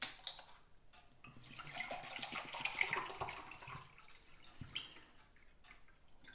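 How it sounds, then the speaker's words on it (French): Water pouring into a measuring container to reach half a litre, a steady trickling, dripping flow close by that swells in the middle and then eases off, with no talk over it. "Donc, je mesure un demi-litre d'eau."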